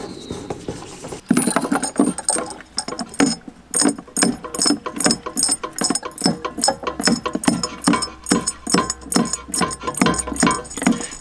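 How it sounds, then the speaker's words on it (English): A safety siphon pumps gasoline from a spare fuel can in a rhythmic series of close, clicking strokes with faint sloshing behind them, repeating steadily and heard alone. "It just sucks the gas right out of there."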